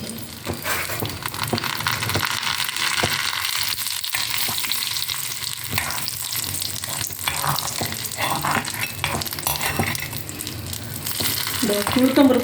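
Urad dal frying in oil in a pan, with mustard seeds already popped for a vazhaipoo puli kootu tempering: a continuous close sizzle with stirring scrapes throughout, growing slightly louder toward the end.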